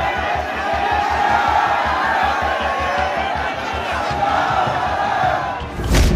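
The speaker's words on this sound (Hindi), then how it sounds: "हजारों की संख्या में लोग कलेक्टर के दफ्तर के सामने पहुंचकर नारेबाजी करने लगे" A crowd of thousands chants slogans outside a district collector's office during a protest: a loud, dense roar of massed voices with a rhythmic, pulsing beat throughout, ending in a sudden bang.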